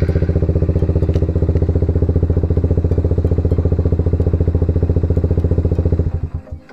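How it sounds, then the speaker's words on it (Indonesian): A Suzuki Satria FU motorcycle engine runs close by at a steady, rapid, thumping idle for about six seconds, then abruptly cuts out and sputters to silence. No one speaks. "Kemudian kita coba hidupkan dari kunci kontak, apakah bisa dimatikan dengan remote."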